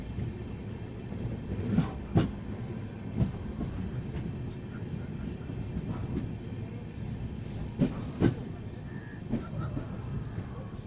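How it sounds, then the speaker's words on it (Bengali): The Sealdah–Balurghat Express runs through Gazole in Malda district, heard from inside as a steady rumbling roll with periodic clickety-clack rail-joint knocks, heard close up with no speech. "আমাদের ট্রেন শিয়ালদা বালুরঘাট এক্সপ্রেস এখন পৌঁছে গেছে মালদা জেলার গাজলে।"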